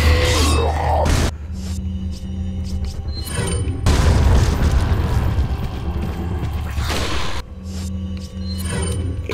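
Gunfire in the video game Resident Evil 4 booms heavily in several loud blasts separated by quieter stretches, with deep rumbling bursts at roughly the start, middle and near the end.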